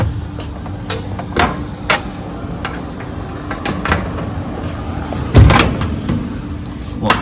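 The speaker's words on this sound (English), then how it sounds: "we can close the machine." Metal cabinet of an ACK Series upcut saw being shut, a few sharp knocks and one heavier thud over steady shop machinery hum.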